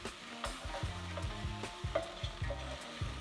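Ginger and garlic sizzle and fry in a pan for a beef stew, a close, steady crackle broken by rhythmic stirring scrapes and light clinks.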